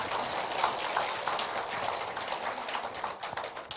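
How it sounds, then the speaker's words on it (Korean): Applause from a church meeting audience, a steady dense patter of many hands clapping together for several seconds, moderately loud and continuous with no voices over it. "사실 박수 받으려고 한 것은 아닌데 박수 쳐주시니까 감사는 하네"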